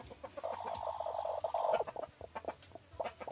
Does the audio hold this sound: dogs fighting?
no